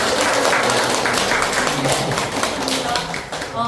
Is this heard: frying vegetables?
no